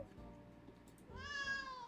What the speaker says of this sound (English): We got a puss cat now.